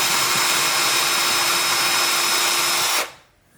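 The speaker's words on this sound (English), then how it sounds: "I'm actually going to drill this one out and see if I can redo it." A power drill whines loudly and continuously close up while drilling out a laptop hinge mount on an HP X360 14, then stops abruptly near the end.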